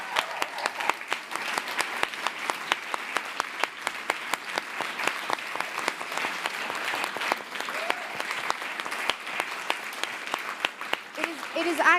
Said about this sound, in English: give them their applause